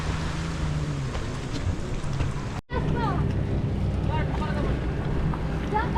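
A dragon ride water-sports boat at Elephant Beach, Havelock, its engine rumbling under gusty wind noise on the microphone. A brief dropout cuts in partway through, and a voice speaks over the outdoor roar.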